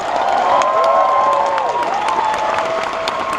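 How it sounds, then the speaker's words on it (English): A large audience at a Minnie's Moonlit Madness trivia event applauds its volunteer Clue crew, with continuous loud clapping and scattered cheers, and a high whistle or tone sliding through the crowd noise. "please give a big round of applause for our Clue crew"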